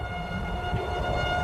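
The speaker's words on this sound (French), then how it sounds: "la sirène d'alarme qui hurlait en ville" A town tornado alarm siren wails in a sustained, steady tone carried on the wind, beneath a broad roar of background noise.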